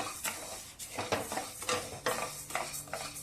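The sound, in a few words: dry roasting samba wheat in a pan on medium flame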